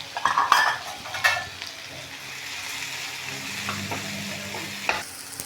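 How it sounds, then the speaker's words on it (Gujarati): Urad and chana dal sizzling in tempering oil for upma, opening with a few sharp stirring scrapes against the pan, then settling into a quieter steady crackle. "આપણે આમાં અડદની દાળ ઉમેરીશું વઘારમાં ચણાની દાળ ઉમેરીશું"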